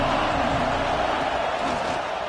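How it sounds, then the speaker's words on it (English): Stadium crowd at a college football game, a dense sustained roar of many voices, loud and steady throughout without pause. "This crowd ready to make its presence known."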